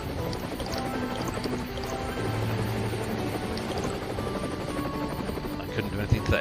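A helicopter in the Tiny Rails video game gives a continuous buzzing, whirring drone at steady loudness throughout. A speaking voice comes in at times over it.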